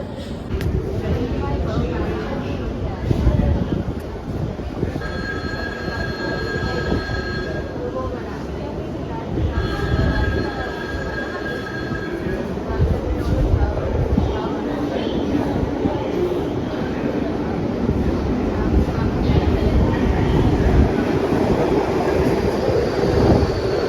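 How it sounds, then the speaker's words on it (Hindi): A metro train rumbles and rolls along with wheel noise and brief tonal squeals, amid wind buffeting and a busy platform, voices under the din. "मेट्रो का इंतजार करते हुए 3-4 मिनट में आएगी मेट्रो।"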